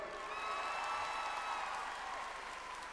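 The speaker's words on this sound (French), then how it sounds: "Est-ce qu'on peut applaudir un petit peu les accessoires, s'il vous plaît?" A crowd at a Japan Expo cosplay show gives a short round of steady applause for the costume props. A sustained tone from the venue's sound system runs underneath.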